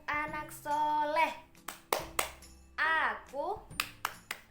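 A group of children clap their hands in short bursts and rhythmic claps, mixed with loud sung chanting voices and a ringing tone.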